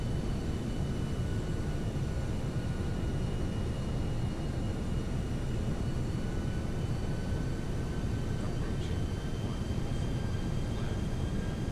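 A simulated airplane engine from the flight game X-Plane 11 drones steadily, a constant low broadband rumble with faint high tones, moderately quiet and continuous, no voices.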